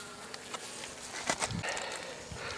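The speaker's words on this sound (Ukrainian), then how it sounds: "Бджоли літають навколо." Honeybees at a hive during winter buzz and hum steadily at low volume, a few passing closer with brief louder swells, and no voices.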